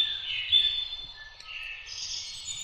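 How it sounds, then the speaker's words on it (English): A bird song sample previewed in Unreal Engine's content browser: continuous high, thin chirping and warbling, sustained and fairly faint, with no speech over it. "you should be able to hear the bird audio playing"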